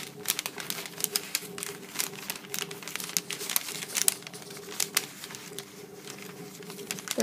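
Paper being folded and creased by hand while making a garment dart pattern, with steady crisp crinkles and taps over a low background hum, close and fairly quiet, no talk.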